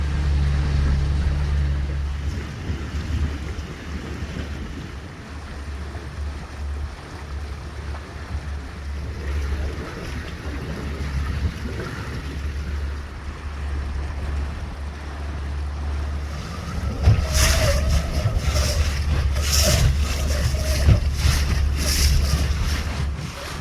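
A boat motors steadily into a marina, its low engine drone running under wind and water noise throughout, with brief clattering sounds near the end.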